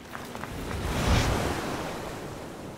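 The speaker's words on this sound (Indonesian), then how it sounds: "mendingan kalian kasih suara ombak." Ocean waves rolling onto a beach, one surge swelling and fading as a broad wash of surf noise without talk.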